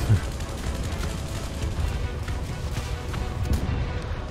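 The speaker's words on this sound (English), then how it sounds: "Let's give him some of this arty." Artillery fire in War Thunder during a tank battle, heavy rumbling blasts and bursts of gunfire layered over a dense, noisy low roar, loud throughout.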